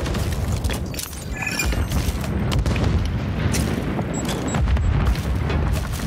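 A grenade explodes in the multiplayer shooter Modern Warfare 3, a dull boom and scattered cracks rolling through a dense, noisy mix of gunfire and debris rattling throughout.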